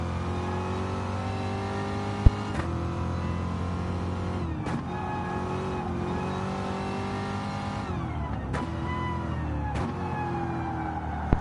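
Gr.3 race car engine in the GT Sport video game, loud and steady with harmonic drone, pitch rising and falling through several gear changes, with sharp shift breaks; no talk.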